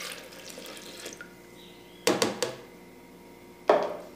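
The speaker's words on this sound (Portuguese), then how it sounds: "Põe a água aqui." Water poured into a blender while making vegan hummus, a soft trickle followed by a few sharp splashes and knocks against the container and then a final splash, with no one talking.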